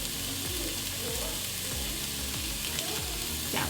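Food sizzles steadily in a hot cast iron skillet during healthier Filipino home cooking, giving a continuous close crackle with small pops throughout and no voices.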